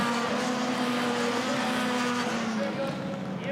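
Supercar Lites rallycross race cars blast past at full speed at Tierp during a RallyX Nordic semi-final, a loud, sustained engine roar with rising and falling pitch and a commentator's voice running over it.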